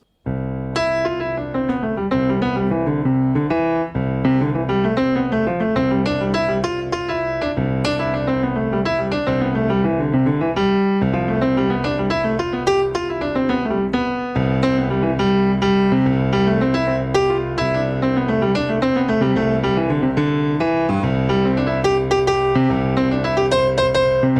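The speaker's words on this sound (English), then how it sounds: "The next way we're going to improvise is going to be a like folky jig sort of approach." Lively piano improvisation in a folky jig style on white notes, with a bouncing, dance-like rhythm and a steady lilting pulse, continuous and fairly loud, with no voices.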